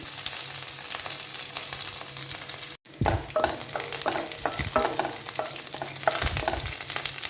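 Onions, kanthari chillies and curry leaves fry in a pan with steady close sizzling, broken by a brief dropout, then repeated scraping stirs over the crackle; no talking.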